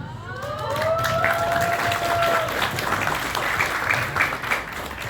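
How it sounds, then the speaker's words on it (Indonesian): Audience applause at a Maulid Nabi gathering, a steady wash of clapping that holds at a fairly even level throughout, with a brief tonal sweep early on. "Jangan tepuk tangan dulu."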